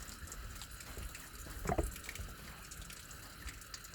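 Water drains from a Taylor wood boiler, a soft trickling, dripping flow with one brief louder splash, quiet throughout.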